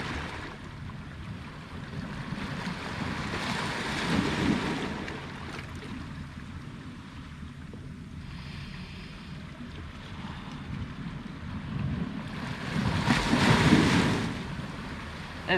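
Sea waves wash against the shore at the seaside, a steady broad rush swelling into two louder surges, with wind buffeting the microphone and no talking.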